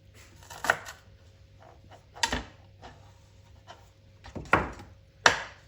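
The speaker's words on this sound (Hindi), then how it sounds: "अब यहाँ पे मैंने धनिया लिया, इसको धो लिया, धो के इसको खुश्क कर लिया। तो अब इसकी हम करेंगे कटिंग।" Fresh coriander, washed and dried, being chopped with a knife on a board: a few sharp, separate chopping knocks spread irregularly across the stretch, close up and fairly quiet, with no voices.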